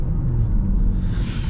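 Seat Leon 1.5 with 150 hp driven hard along a winding village road at night, its engine a steady low rumble with road noise filling the cabin, continuous and fairly loud with no talking.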